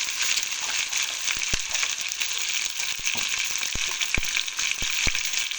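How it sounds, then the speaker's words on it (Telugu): Eggs fry in oil seasoned with turmeric in a home kitchen, giving a steady close sizzle with occasional sharp pops and light utensil clicks. "ఇంట్లో కొంచెం పసుపు అండి ఆయిల్ వేసుకొని ఎగ్స్ వేసుకున్నాం"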